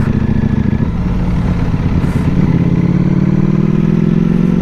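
A brand-new Ducati Panigale rumbles loudly through downtown Orlando streets, its engine note shifting and rising as the rider rolls on the throttle, with wind buffeting underneath.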